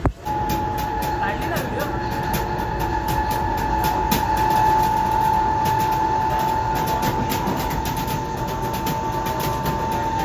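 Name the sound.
local train running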